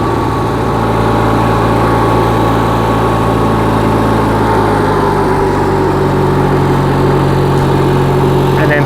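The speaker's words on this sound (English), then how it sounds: "Go ahead and let that run for a sec." A Kohler Magnum 18.5HP twin engine on a Craftsman garden tractor runs steadily at a loud, even drone, holding a constant throbbing hum throughout with no talk over it.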